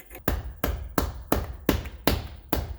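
Sharp metallic knocks drive a driveshaft support bearing onto a Pontiac G8 driveshaft, seven evenly spaced hard blows, close and loud, with no talk.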